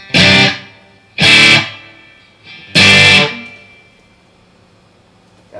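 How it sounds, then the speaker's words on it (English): Three loud sustained electric guitar chords, each ringing out with a bright, boosted tone and a short reverberant tail, separated by brief gaps. "So we got the boost and reverb now"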